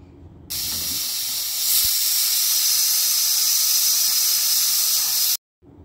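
A pressure cooker whistles, venting steam while it boils chopped raw jackfruit in salted water with green chillies. The hiss is loud and steady, lasts about five seconds and then cuts off abruptly, with no voices.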